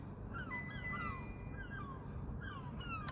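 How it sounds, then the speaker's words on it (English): Seagulls call above an abandoned 1886 railway viaduct in Liverpool, giving a string of short, sliding cries of moderate loudness over a steady outdoor rumble. "Seagulls are all over this drone."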